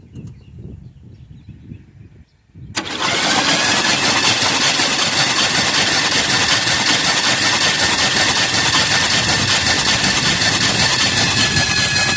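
A 1978 Chevy Custom Deluxe engine, spark plugs removed, turning over on the starter with the key. Quiet rustling comes first, then a sudden loud, steady, whirring crank runs on without a break.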